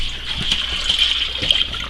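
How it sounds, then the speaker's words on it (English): Water drains through a sink trap in camp plumbing being winterized, a close, steady gurgling trickle with a hiss and no talk. "Let it push all the water that's in the trap."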